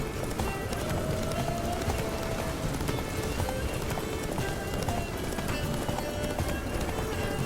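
Roach, Geralt's horse in the video game The Witcher 3, gallops with a continuous, rapid clip-clop of hooves. A whinny is heard and game ambience runs underneath.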